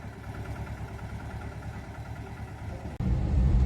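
A Mahindra tractor engine runs during spraying with a steady mid-low hum that rises into a louder, heavier rumble near the end. It sounds fairly faint and continuous, with no voices.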